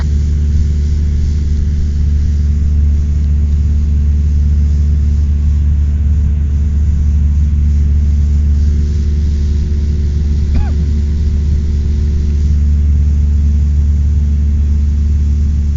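A Cessna 172 piston engine drones in flight, heard from inside the cabin as a loud, steady low rumble with a constant hum that runs unbroken throughout.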